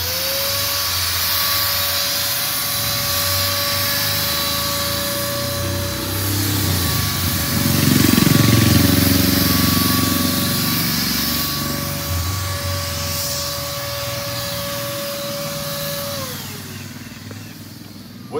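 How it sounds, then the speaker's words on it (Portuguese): A spray gun applies mortar texture to a wall, giving a continuous loud hissing, whirring spray with a steady tonal whine from the compressor, swelling in the middle and tapering off near the end. "Eu vou usar uma pistola de pulverização."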